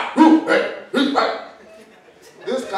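A comedian on stage imitates a dog with his voice, letting out a few sharp bark-like yelps in quick bursts followed by a short pause and another yip, close and loud.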